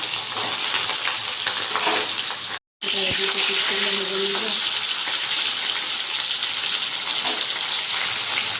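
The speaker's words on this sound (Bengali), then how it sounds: "দিয়ে দেবো ইলিশ মাছের মাথা ভেজে নেবো" Hilsa fish heads fry in hot oil in a wok, producing a loud continuous sizzle and crackle close by, interrupted by a brief gap and some clattering, with faint voices underneath.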